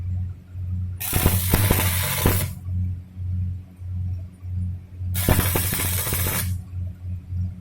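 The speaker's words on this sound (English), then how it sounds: "Let us check whether the welding electrode is working or not." Two bursts of arc welding from a stick electrode testing a tack weld, each a loud, crackling, sizzling hiss lasting about a second and a half, separated by a few seconds of low machine hum.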